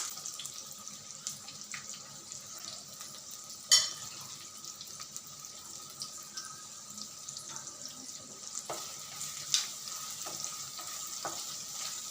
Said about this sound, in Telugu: అందులో ఆయిల్ పోసాను దాంట్లో కొంచెం ఆనియన్స్ వేస్తున్నాను